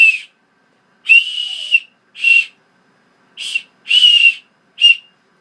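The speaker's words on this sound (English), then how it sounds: "the whistle works if you do it the right way" Shrill blasts from the small whistle built into a BudK Tac-Warrior neck knife, six short and medium bursts with gaps between, loud and close with a breathy hiss.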